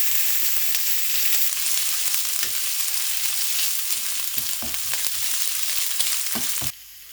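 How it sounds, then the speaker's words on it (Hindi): Garlic and ginger paste fries in a hot pan with a steady, loud sizzle throughout, broken by a few stirring scrapes and knocks, then the sizzle drops off abruptly near the end. "इसको अच्छे तरीके से मैं फ्राई करूँगा उस वक्त तक जब तक इसका कच्चापन दूर नहीं हो जाता।"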